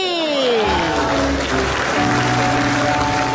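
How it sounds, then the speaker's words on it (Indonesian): Audience applause in a television studio, loud continuous clapping from a crowd with music or a sweeping jingle layered over it. "Mana tepuk tangannya?"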